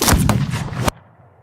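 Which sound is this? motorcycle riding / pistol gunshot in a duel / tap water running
pistol gunshot in a duel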